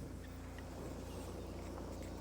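Peugeot 406 Coupé with a rusty exhaust running at a steady idle, a faint low rumble under broadband wind-like noise, continuous and distant with no voices.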